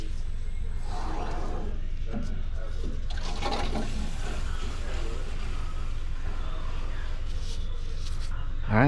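Water rushes into a McQuay water-source heat pump after its supply and return valves are opened, a steady loud gushing flow through the piping, with someone talking over it.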